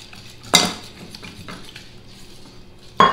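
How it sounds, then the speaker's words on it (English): Coconut pie batter of milk, vanilla, sugar and flour being whisked by hand in a bowl, with a soft swishing broken by two sharp clinks of the utensil against the bowl's rim. "you can do this by hand, just like I'm doing. You don't need a mixer. You're just going to whisk all this together."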